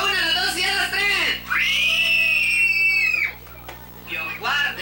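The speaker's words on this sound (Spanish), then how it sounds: "quiero escuchar bulla, un grito, un aullido quiero escuchar" Crowds of girls and children scream and shriek at a patron saint village fiesta in El Salvador, long sustained high-pitched yells rising in bursts, with an announcer's voice over a PA and constant background hum.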